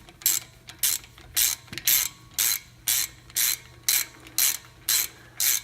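A ratchet wrench snugs down lug nuts on a 2009 Honda Pilot during a brake pad job, giving about a dozen loud, close, evenly spaced clicking bursts with a faint steady hum underneath and no talking.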